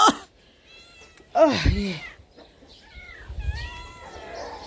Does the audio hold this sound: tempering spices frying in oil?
no